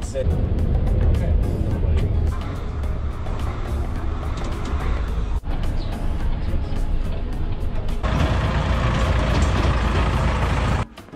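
A tour vehicle in the Alps, near the town of Füssen, drives toward a hotel, its engine and road rumble loud and constant from inside the cabin.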